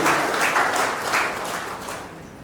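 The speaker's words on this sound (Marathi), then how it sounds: "आपण जोरदार टाळ्या वाजवून अभिनंदन करूया" An audience at a Marathi book launch claps warmly to congratulate four authors and poets, a dense close burst of applause that gradually tapers off, with no talking.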